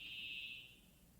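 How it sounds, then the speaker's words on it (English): A fire alarm sounds a steady, shrill electronic tone that holds for about half a second and then drops away, leaving a low background hum. "No, it is definitely the fire alarm."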